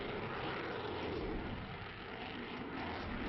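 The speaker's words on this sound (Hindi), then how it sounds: "आसमान में गरजते फाइटर जेट" Indian Air Force fighter jets fly overhead during a planned air exercise, producing a continuous, dense roar that holds steady throughout and stays fairly distant.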